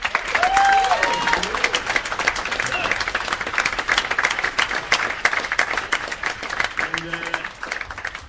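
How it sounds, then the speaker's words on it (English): A live science-show crowd gives sustained, loud applause for a group of girls, with whoops and voices rising over the dense clapping before it thins out. "Can I have a round of applause for the girls, guys?"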